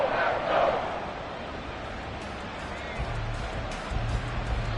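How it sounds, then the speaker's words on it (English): A football stadium crowd at a 3rd-and-long play, heard as a broad, steady roar that fills the space, slightly louder at the start and holding at a constant wash of noise throughout. "This crowd turning up the decibel level."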